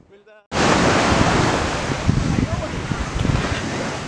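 Waves at Anyer beach roar in after a brief quiet moment, a loud continuous wash of surf with strong wind buffeting the microphone, heard close and steady with no voices.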